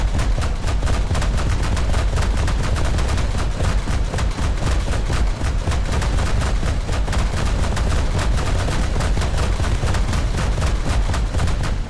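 Anti-aircraft guns in the War Thunder video game, pounding out a steady, relentless stream of rapid shots, loud and close for the whole stretch with no pauses.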